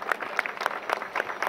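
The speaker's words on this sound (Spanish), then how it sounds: "Vamos a darle un fuerte aplauso a todas las mamás, pues celebrando su día." A crowd applauds at an outdoor running race in Tultepec, Mexico, honoring mothers on their day; steady, distant, faint clapping runs throughout.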